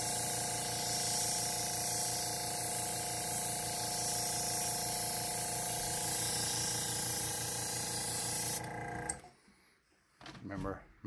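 An airbrush sprays pearl copper paint onto a turkey decoy in a steady, loud hiss with a compressor hum underneath, cutting off near the end to quiet shuffling.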